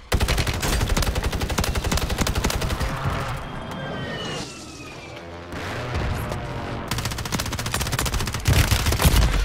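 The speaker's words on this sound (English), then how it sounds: "Other guys are shooting him." Rapid automatic gunfire from a Call of Duty Warzone match, dense bursts of overlapping shots close and loud, easing briefly in the middle before heavy firing resumes toward the end.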